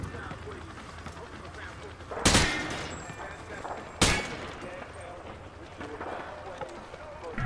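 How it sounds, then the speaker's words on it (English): Gunfire cracks in Call of Duty Modern Warfare 2 as a soldier sprays bullets from the hip, two loud sharp bursts standing out over constant battlefield noise and game sound, with voices talking throughout. "He sprayed bullets all over the damn place."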